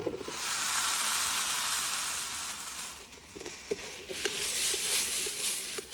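Potatoes sizzle and fry in a pan with snail meat curry, a steady loud hiss broken by a few soft stirring knocks near the end.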